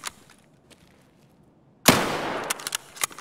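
A single loud gunshot in Escape from Tarkov cracks out suddenly after quiet, followed by a ringing, decaying tail with a few smaller sharp impacts.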